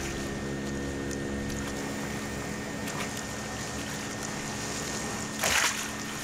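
Motorboat engines pass on Lake Michigan, a low steady rumble and wash of water throughout, with a brief louder splash near the end.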